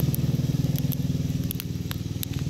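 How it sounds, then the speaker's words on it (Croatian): A wood fire for roasting chestnuts burns outdoors, giving sharp scattered crackles and pops over a low, steady rumbling background. "Vidite kako fino gori."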